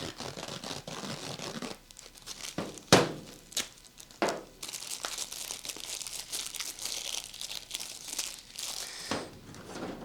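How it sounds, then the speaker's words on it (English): Plastic wrap being pulled and stretched around a tattoo machine grip, giving close crinkling and crackling with a few sharper tearing snaps, all heard alone without talk. "as you're pulling on it, it's coming off with zero pressure, so it just doesn't wrap the machine very tight."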